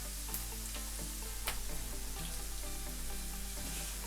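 Minced meat frying in a pan for spaghetti bolognese, a steady close sizzle with light crackle and occasional stirring scrapes, continuous and alone without talk.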